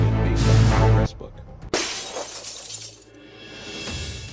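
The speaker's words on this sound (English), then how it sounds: "glass shattering into a million shimmering shards" Glass screen smashed with an iron rod, a loud burst of shattering followed by a second crash and a long tinkling scatter of shards that fades out.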